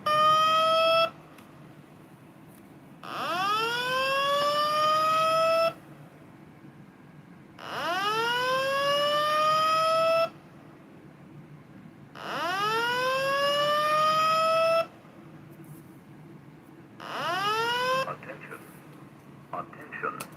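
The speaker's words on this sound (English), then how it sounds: "And then there's the Fire Alarm 9200 recording, which is a little bit louder" A Fire Alarm 9200 slow whoop siren recording, a loud tone sweeping upward and repeating in long rising whoops about every five seconds, with short gaps between them and a steady low hum underneath.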